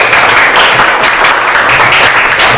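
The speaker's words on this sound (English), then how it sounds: "Give applause for Denny." Classroom applause in an Indonesian elementary English lesson, a steady wash of many hands clapping together at close range that lasts throughout.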